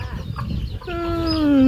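A chicken clucks close by, then lets out a long rising call over soft background chatter and farmyard ambience.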